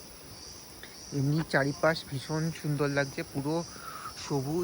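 Crickets chirp in a steady, continuous drone across a green forest valley in Neora Valley, Bengal, while a person talks over them close by.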